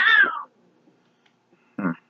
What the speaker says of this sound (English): If these cats won't distract me too much.